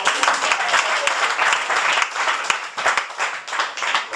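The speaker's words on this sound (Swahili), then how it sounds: "Tumpigie makofi." A church congregation claps hands together in a lively, sustained burst, the dense clatter of many palms filling the room with a few voices mixed faintly underneath.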